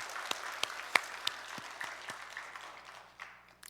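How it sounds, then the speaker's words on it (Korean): Church congregation applauding during a Sunday worship service, a spread of quick claps that fades out toward the end, fairly soft and heard on its own. "박수를 제대로 칩시다. 하나님께 영광의 박수."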